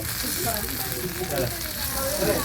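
Chicken pieces frying in a pan for a party chicken fry, a steady loud sizzle and crackle throughout, close by, with faint movement of the pieces being turned.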